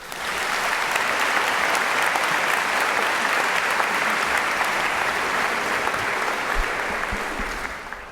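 Sustained audience applause at a 2024 White Coat Ceremony, welcoming a speaker to the stage: dense, steady clapping from a large crowd that holds at an even level for about eight seconds, then eases off slightly at the end, with no talking.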